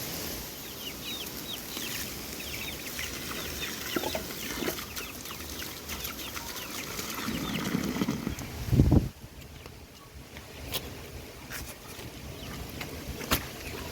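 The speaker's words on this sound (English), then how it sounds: "The chickens come when the hose is on" Backyard chickens cluck intermittently over a constant outdoor hiss of a running hose, with a louder rustling burst midway and scattered short clicks afterward.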